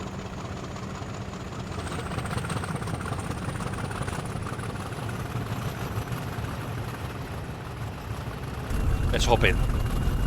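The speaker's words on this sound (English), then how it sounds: "Enjoy the engine sound from in here." A Class 50 diesel locomotive in a train simulator game on a Bristol to Penzance route hums in a steady low rumble from inside the cab, with someone talking over it.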